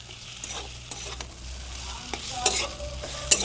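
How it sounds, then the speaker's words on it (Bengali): Mashed potato with spices is stirred and cooked in a pan, giving a soft continuous sizzle broken by scattered scrapes and taps of the spoon. "আলুটাকে এই মশলার সঙ্গে একটু ভালো করে মিশিয়ে একটু রান্না করে নেব 2 থেকে 3 মিনিটের মতো"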